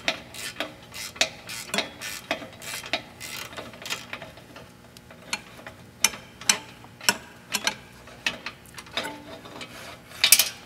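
Rapid bursts of ratchet clicks come from a socket wrench on a long extension as it loosens a nut on a car's downpipe, working in repeated short strokes close by with brief pauses between them.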